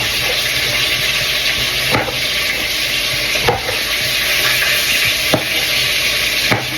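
Fish curry with tomatoes simmers in a pan with a steady, loud sizzling bubble, broken about every second and a half by a scraping stir.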